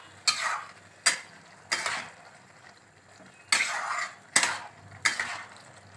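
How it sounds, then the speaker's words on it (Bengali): Chicken keema being sautéed in a wok on a gas stove, a spatula scraping and stirring in six distinct strokes at irregular intervals over a soft sizzle, with no talking. "এবার এটাকে ভালো করে কষতে হবে।"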